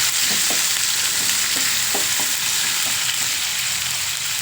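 Over a quarter kilo of onions fry in a pan with a loud, steady sizzle close by, punctuated by scattered stirring knocks and scrapes.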